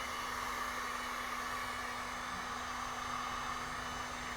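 A heat gun blowing on vinyl wrap over a Tesla Model 3 rear quarter panel, a steady faint airy whoosh with a constant low motor hum, no other sounds.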